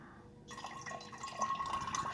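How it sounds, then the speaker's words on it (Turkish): Water pouring by itself through a siphon tube in a children's experiment, a faint continuous trickle with light dripping, starting abruptly and running steadily. "Bu şekilde bu mesafeden kendi kendine dökülüyor."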